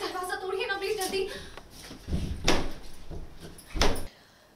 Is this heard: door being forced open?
yes